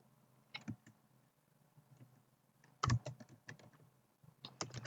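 Typing on a computer keyboard, quiet, close keystroke clicks in uneven bursts with short pauses, including a louder cluster near the end.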